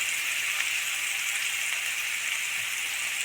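Tomatoes sautéing with salt in a pan, giving a steady, close, even sizzle like light rain that runs throughout with no talk over it.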